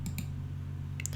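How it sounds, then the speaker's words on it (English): Rapid keyboard typing in a quiet room: a few soft clicks at the start and a short burst near the end, heard over a steady low hum. "Shizuku resumed tapping the keyboard"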